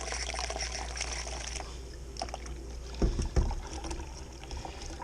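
Beer gushes steadily from a fully opened keg tap in a continuous watery flow, with a couple of brief clunks partway through.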